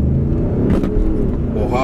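Audi SQ7 with Stage 1 tune doing a launch-control 0-100 run, its engine roaring loud and steady close up with a rising surge, while a voice talks briefly over it.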